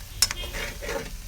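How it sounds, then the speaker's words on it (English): Egusi fries in oil in a pot while being stirred and scraped from the bottom, with a soft continuous sizzle broken by a few brief scraping strokes. "Remember to scrape it from the under as you're frying to avoid the egusi burning"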